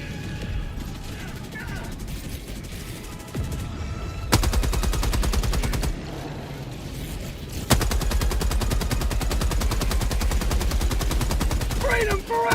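A sentry turret in a video game fires long, steady streams of rapid automatic rounds, loud and close, broken by short pauses and a heavier mechanical thump, while a voice speaks briefly underneath.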